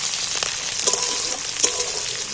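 Onions and potatoes frying in oil in a pan for a fish-head dish, giving a close, steady sizzling hiss with a few faint stirring taps and no talking.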